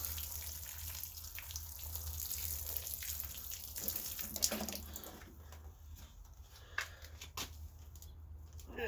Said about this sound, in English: Just gonna go ahead and give it a light watering